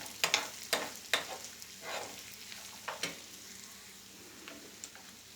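Walnuts and garlic roast in olive oil in a pan with sun-dried tomatoes. A light sizzle runs under sharp scraping stirs and crackles that come in irregular bursts, with no talking.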